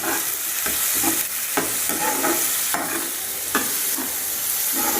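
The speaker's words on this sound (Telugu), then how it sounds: "ఉల్లిపాయలు, కొంచెం బాగా ద్వారగా వేగిన తర్వాత" Onions frying in a pan, a loud continuous close sizzle with soft rhythmic stirring scrapes and crackles, no talk.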